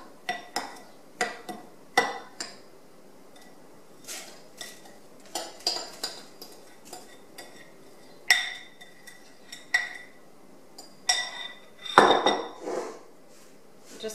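Butter and graham-style crumbs for a no-bake cheesecake crust get mixed in a bowl, heard as a series of irregular clinks and scrapes of a utensil against the dish, separated by quiet pauses.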